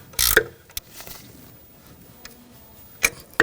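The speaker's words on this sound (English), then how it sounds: "Now I'm just gonna use a 17mm ratchet wrench" A 17mm ratchet wrench tightens a nut on the rear forward control arm of a 2000-2006 BMW X5, giving a few sharp, close clicks and clacks separated by pauses.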